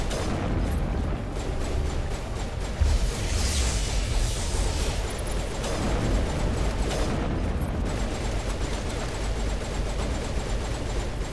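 Pistol fire and combat blasts in the video game Mass Effect on Insanity difficulty, a dense continuous barrage of booming shots and rumbling explosions that fills the whole stretch, loud and close with no pauses.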